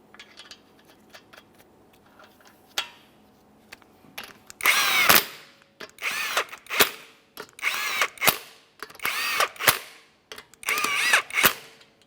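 A power tool tightens the wheel lug nuts on a 2015-2019 Subaru Outback in a series of loud, close bursts, about seven short rattling impacts in a row after some quiet handling noises.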